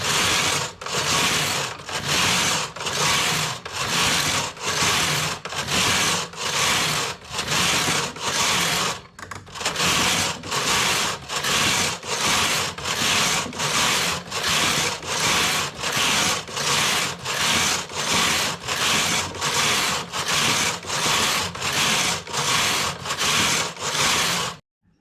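A domestic knitting machine runs a multipurpose punch card. The carriage makes steady, rhythmic rasping passes back and forth for about 25 seconds, with one short pause partway through. The sound is loud and close, with no voices.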